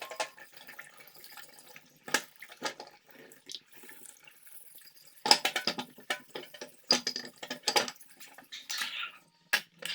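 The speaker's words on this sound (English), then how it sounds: "I then use a wire brush and running water to wash the old paint out." Running water splashes over Yamaha DT 125/DT 175 motorcycle fork parts being scrubbed with a wire brush to strip old paint, in irregular bursts of spray and clatter with quieter gaps between.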